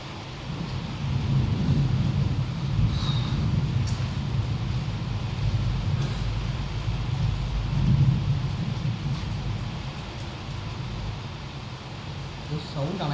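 Steady heavy rain with low rumbling thunder rolling in the background, continuous and fairly loud throughout, while a person speaks over it.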